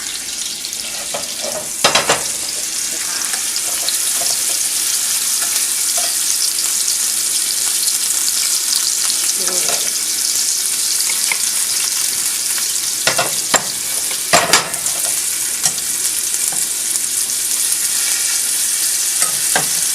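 Beef for stroganoff searing in a tablespoon of butter with oil in a pan, a loud continuous crackling sizzle close by, with a few sharp clatters and scrapes as pieces are moved, no voices.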